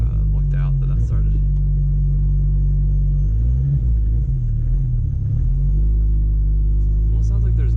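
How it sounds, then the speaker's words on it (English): A Golf RS engine idles with a deep, steady rumble, an uneven knocking undertone from the engine, and a few brief voices nearby. "Almost sounds like there's knocking noises in the engine"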